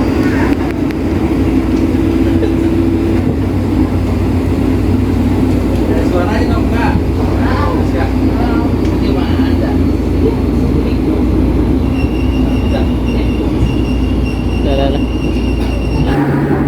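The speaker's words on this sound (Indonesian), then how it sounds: "Kita sudah berangkat lagi nih dari stasiun Nambo." A commuter train pulls away from Nambo station. There is a steady, loud rumble of wheels on rail with squealing tones and faint voices inside the carriage.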